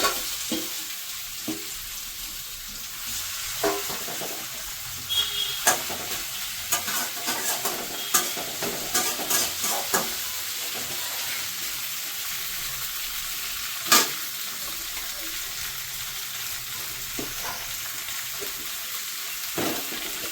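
Taro stolons (kochur loti) coated with spices and black cumin frying in a pan, a continuous low sizzle broken by repeated scraping stirs and occasional sharp clicks of a spatula against the pan.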